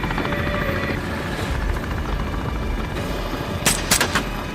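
A helicopter's rotor thrums steadily in an action film scene, then a few sharp bursts of gunfire crack out near the end.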